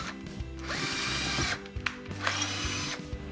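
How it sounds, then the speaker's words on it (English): A power drill whines in repeated bursts, boring through wood with a grinding, ratcheting bite; short pauses between pushes, close and fairly loud. "where you've made your marks, just drill all the way through."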